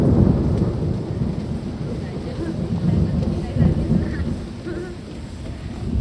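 Steady rain hisses with deep, rolling thunder rumbling through, swelling and fading, accompanied by gusty wind noise against the microphone, in Naroda, Ahmedabad.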